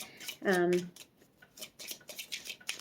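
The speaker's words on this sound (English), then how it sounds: "so it's going to make me shuffle" Oracle cards being shuffled by hand, a brief riffle of papery flutter and soft slaps repeated in short bursts, close and moderately loud, with a voice speaking over part of it.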